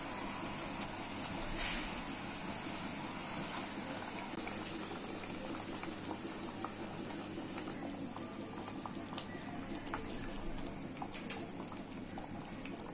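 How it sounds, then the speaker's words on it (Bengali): Hilsa fish pieces going into a gently simmering mustard gravy in a pan: quiet, steady bubbling and sizzling with a few soft splashes, heard alone. "হালকা ফুটলে এবার আমি মাছটা দিয়ে দিচ্ছি।"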